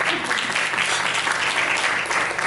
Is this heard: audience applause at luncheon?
yes